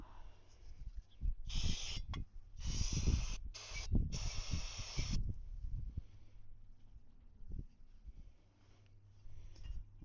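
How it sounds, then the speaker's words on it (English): Several short hissing bursts of aerosol spray cleaner on the carburetor floats of a 1972 Honda SL350 motorcycle, close and fairly loud, come one after another amid handling noises. "Spray that off real quick."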